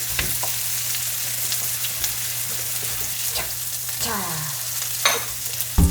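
Food sizzles steadily in a frying pan being used for the first time, a close, even hiss with occasional scrapes and clatters of a utensil, and a single short spoken word near the end.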